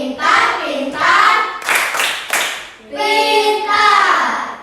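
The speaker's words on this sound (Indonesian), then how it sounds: "Iya, tepuk pintar dulu untuk mereka" A classroom of children performs the rhythmic 'tepuk pintar' clap during a teaching session, bursts of patterned clapping mixed with chanted children's voices, loud and close, in repeated phrases.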